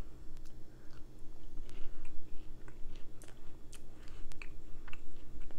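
Someone chews a baked peanut butter cookie made from cookie dough, with close, crisp crunching bites and moist chewing in an uneven rhythm, no talking.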